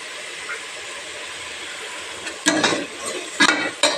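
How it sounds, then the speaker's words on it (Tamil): Ration-shop dal lentils frying in a pan make a steady soft sizzle and hiss, broken near the end by three louder bursts of scraping as the pan is stirred. Nobody speaks. "பாருங்கள், ஓரளவுக்கு நல்லா ஃப்ரை ஆயிடுச்சு."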